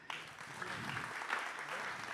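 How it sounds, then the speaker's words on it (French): Conference audience applauding at the Futurapolis Planète 2024 event, a dense, even wash of clapping from a crowd that starts abruptly and continues steadily, heard at a moderate distance. "on peut l'applaudir"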